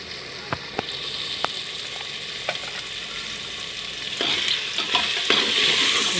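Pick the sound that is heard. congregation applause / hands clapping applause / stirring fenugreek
stirring fenugreek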